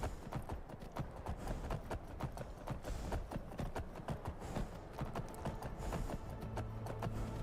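Horse hooves clip-clop in a steady, rapid galloping rhythm in Skyrim, close and continuous with faint game music beneath.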